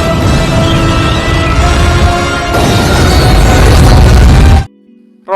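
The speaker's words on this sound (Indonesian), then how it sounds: "Roket pun meledak dan menewaskan Riot dan Drake." A rocket explodes in a Venom film scene with a loud, sustained roaring blast that builds and holds for over four seconds. It then cuts off abruptly into near silence.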